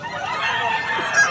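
A gamecock rooster crows in one sustained, strained call that runs loud and close from start to finish.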